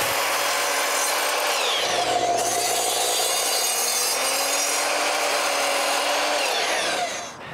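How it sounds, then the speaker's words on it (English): A power saw cuts through leftover 2x8 wooden boards for a trailer floor, a loud, continuous, close whine and rasp that runs steadily for several seconds before trailing off at the end. "When both sides are bolted in place, I cut the floors 2x8s."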